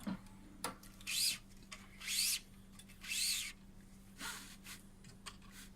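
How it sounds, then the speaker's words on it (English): The lever on a badminton string weaver device slides back and forth, making four rhythmic rasping strokes about a second apart, close and fairly quiet, mixed with a few light clicks against a low steady hum. "he'll move the lever on the string weaver device"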